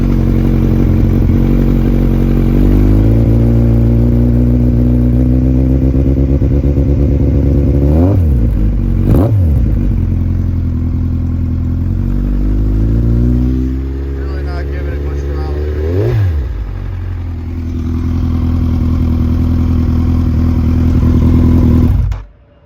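Kawasaki Z1000/Ninja1000 motorcycle with full headers, barely warmed up, idling loud and close with a steady throbbing rumble, punctuated by several quick throttle blips that rise and fall, before the engine cuts off at the end.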